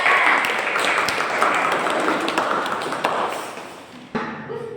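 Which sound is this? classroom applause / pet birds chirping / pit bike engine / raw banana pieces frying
classroom applause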